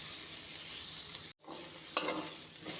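Boiled beans frying in a pan give a steady, close sizzle with stirring scrapes. The noise cuts out briefly midway, then resumes with a louder burst.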